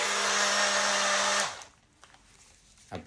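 An electric blender whirs loudly while mixing an avocado and banana shake, a steady high motor roar that cuts off after about a second and a half and winds down, followed by quiet with faint knocks.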